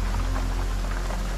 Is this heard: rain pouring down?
yes